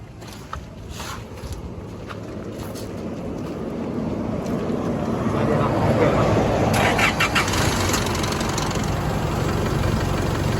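A car with a carbon body kit and a five-hole mag setup cranks and starts, then settles into a smooth, steady idle that swells slightly louder, recorded close outdoors with faint voices in the background.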